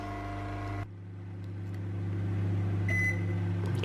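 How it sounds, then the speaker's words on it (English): A microwave oven hums steadily while heating chocolate pudding, a low electric drone with a brief shift in tone early on and a faint beep-like tone partway through, with no talk. "So I'm going to pop it into the microwave for a minute and I'll show you then."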